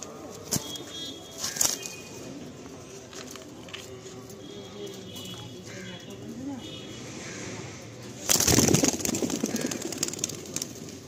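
A pair of black-eyed pigeons, a male and a female, are let go from a loft in Kolkata. Soft coos and background noise run under someone talking, then a loud rush of flapping wings bursts near the end.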